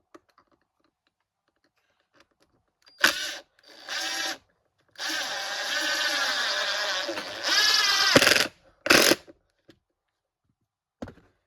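A RIDGID 18V R86002 impact driver drives a screw in loud bursts: two short blips, then a long sustained hammering run that rises in pitch near the end, followed by a final quick burst, with no talking.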